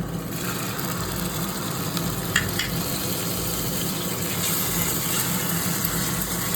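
Onion paste fries in mustard oil in a pan for a Bengali potato and green pea curry, a steady close sizzle with faint stirring scrapes throughout.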